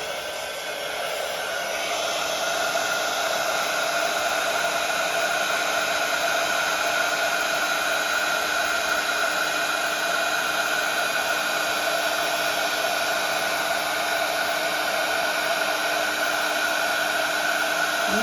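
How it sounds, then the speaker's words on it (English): Heat embossing tool blows hot air over stamped metallic embossing powder, a loud steady whooshing roar that rises in the first couple of seconds and then holds constant, close and alone. "I'm going to be using my embossing tool."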